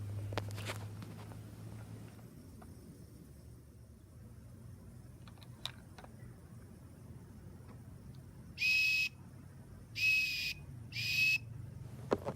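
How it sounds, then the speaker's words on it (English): Three short, shrill whistle blasts from a lifeguard at a pool, sounding in quick succession near the end over faint background noise and a few soft footsteps. "The lifeguard blows his whistle"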